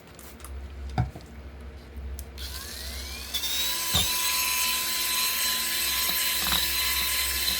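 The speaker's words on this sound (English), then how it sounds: "we're just going to sand until those marks that we just put on are gone" A pressed-flower epoxy resin tray is sanded by hand with 2000 grit sandpaper, giving a continuous soft scratchy hiss that grows louder and denser partway through, with occasional light knocks.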